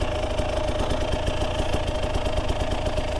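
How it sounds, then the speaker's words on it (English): A two-stroke dirtbike engine runs steadily with a buzzing, rapidly pulsing note and no talking, loud and close throughout. "Two-stroke, all smoke."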